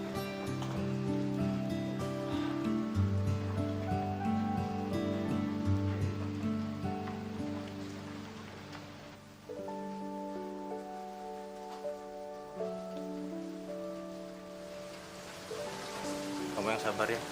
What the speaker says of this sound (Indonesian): Makin deras hujannya.